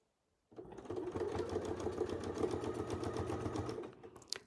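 A sewing machine starts after a short silence and stitches fabric at a steady fast whirring rhythm, close and clear, for about three seconds before slowing to a stop.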